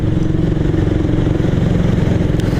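A hot motorcycle engine runs steadily at low revs, a constant close rumble with slight clatter and no speech.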